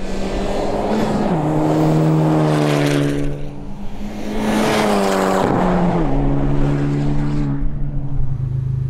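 A modified Honda Civic Type R roaring past twice, its engine note climbing then dropping sharply as it passes, loud and close, then fading away.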